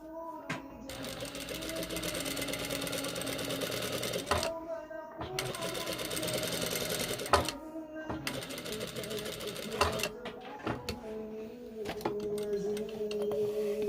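A sewing machine stitches a second seam line along an abaya, running in steady motorized bursts with brief stops between runs. Soft voices murmur in the background.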